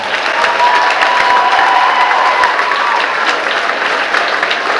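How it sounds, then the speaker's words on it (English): School choral festival audience applauding seniors, loud sustained clapping from a large crowd mixed with cheers and scattered shouts, a thick unbroken wall of sound from start to finish. "Let's give our seniors another round of applause."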